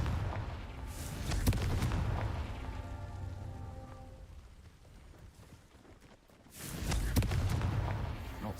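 A Confringo fire spell blast in Hogwarts Legacy bursts out twice, each a loud broadband boom with a crackling tail and a quieter stretch between, no talking.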